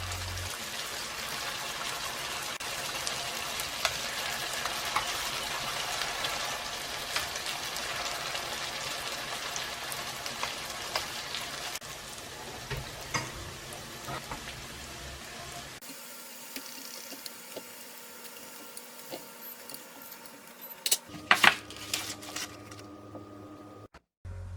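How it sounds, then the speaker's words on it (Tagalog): Filipino kwek-kwek fry in oil at medium heat, giving a continuous crackling sizzle that gradually thins out, followed by a few brief clinks and tones near the end. "And start to fry it in a medium heat for about 2 to 3 minutes."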